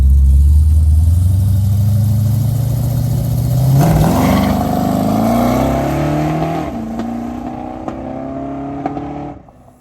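A showcar converted into a drag car roars down the track in a test pass with an alternator wire disconnected, engine pitch climbing through gears, loud and close at first, then fading as it pulls away.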